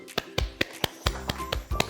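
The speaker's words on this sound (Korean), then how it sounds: "박수" Sharp, separate hand claps, about eight in a loose irregular rhythm, close and crisp, heard alone in a kitchen setting with no talking.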